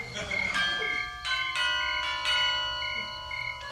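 A bell rings in bright, repeated metallic strikes, each ringing out with long sustained overtones, several peals in quick succession at close range.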